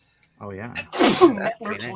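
One sharp sneeze bursts out close by, with a person talking just before and after it.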